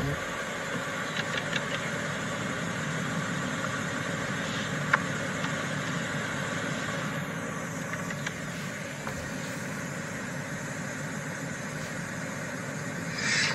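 A car engine idles during a driving licence exam route in Nanterre, giving a steady low hum with faint scattered clicks and small knocks throughout, no speech over it.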